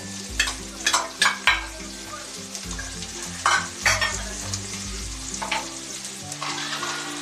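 A mash of potato, peas and paneer fries in oil and is stirred, with a steady sizzle broken by repeated scraping stirs of a spoon against the pan, close and without talk.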